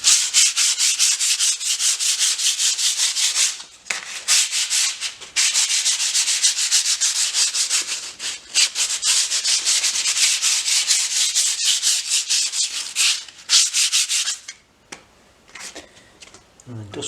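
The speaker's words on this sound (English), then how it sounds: "Filler's dry now, so another light sand over." Dried filler over a water stain on a wall is lightly sanded by hand, close rhythmic rasping strokes repeating steadily for about fourteen seconds with brief pauses, then trailing off into a few scattered scrapes.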